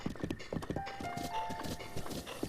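A video game horse walks at an unhurried pace, its hooves clip-clopping in a steady, close rhythm with faint background tones and no talking.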